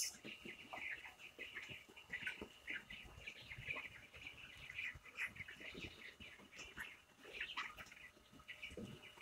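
A flock of about 550 broiler chickens in a poultry farm shed, faint scattered clucks and chirps overlapping in a busy low murmur.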